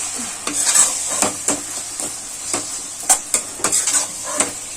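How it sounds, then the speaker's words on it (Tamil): A utensil scrapes and clinks rhythmically against a pot while chili powder is stirred into a simmering fish curry. The close, repeated strokes run over a soft bubbling sizzle, with no voices. "மிளகாத்தூளை போட்டு நல்லா கரைக்கி எடுத்துடலாம்"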